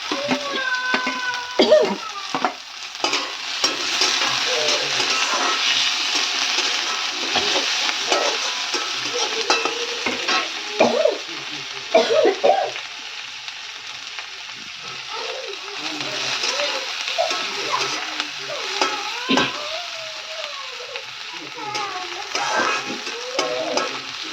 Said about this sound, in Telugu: ఇప్పుడు ఒక టమాటా వేసుకుంటున్నాను ఫ్రెండ్స్.